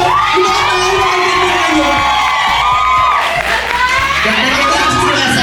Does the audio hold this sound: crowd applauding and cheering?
yes